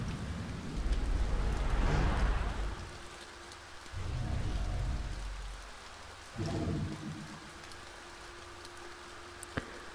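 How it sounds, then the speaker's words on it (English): Rain falls in a video game as a soft, steady hiss, swelling in a few louder gusts with a low rumble underneath, and a faint click sounds near the end. "When it comes to rain, through is better than onto."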